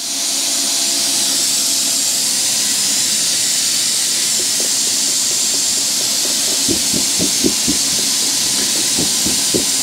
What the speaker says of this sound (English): I think we need a new sprayer head on this thing.